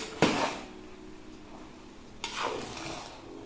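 Chicken biryani with mint and coriander being stirred in a pot, Palakkad style, heard as two separate clattering scrapes of a utensil against metal, near and fairly quiet, with a low room hum between them.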